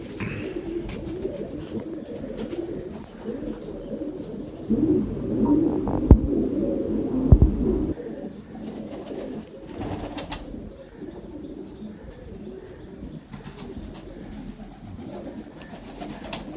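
Domestic breeding pigeons, a paired male and female, coo softly in low, throbbing bursts that swell and fade over a faint steady background, with a few sharp knocks between them.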